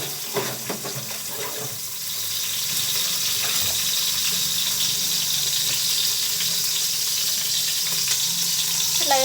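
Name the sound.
onions frying and being mixed for potato biryani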